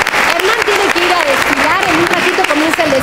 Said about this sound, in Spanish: Un aplauso muy, muy,